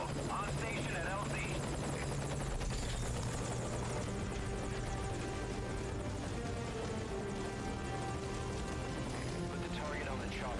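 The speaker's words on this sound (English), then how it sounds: "Put the target on the chopper." A helicopter in Metal Gear Solid V waits at a landing zone, its rotor whirring and engine droning loudly and steadily throughout, with game dialogue voices talking over it.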